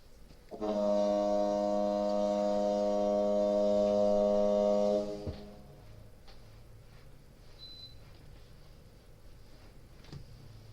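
A foghorn blasts once to open an evening meeting, a loud sustained harmonic tone lasting about four and a half seconds before cutting off, followed by quiet room ambience.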